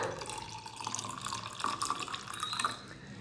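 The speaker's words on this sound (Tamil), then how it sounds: "இப்போ ரெண்டுலேயுமே வந்து ஐஸ் வாட்ரு வந்து ஒரு முக்கால் டம்ளர் டம்ளர் அளவுக்கு வந்து நான் ஊற்றிக்கிறேன்" Ice water poured into a tumbler of nannari sherbet, a steady splashing, trickling pour with small drips, close and moderately loud, without talk.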